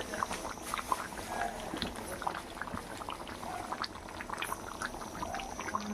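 Chicken curry simmers in a covered pot over lowered gas, giving a soft, continuous bubbling and popping at low volume that stays steady throughout.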